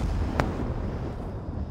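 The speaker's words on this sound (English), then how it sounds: "We got more explosions outside." Explosions going off outside in the game Dying Light 2, a muffled, distant rumble with one sharp burst standing out, heard without anyone speaking.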